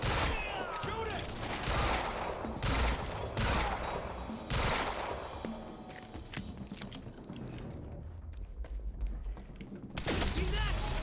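Sustained gunfire from the video game Quantum Break: repeated loud volleys and bursts come and go over several seconds, easing off briefly before another burst, with occasional shouted voices underneath.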